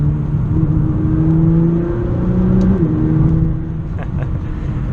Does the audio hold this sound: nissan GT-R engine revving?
yes